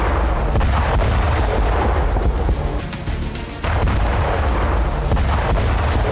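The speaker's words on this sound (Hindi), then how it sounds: "30 सेकंड में ही टारगेट सेट हो गया और फिर हुआ जोरदार धमाका" Heavy, booming blasts from a drone-dropped bomb in the Russia-Ukraine war rumble continuously with deep low-end power, loud and sustained, fading briefly before surging again.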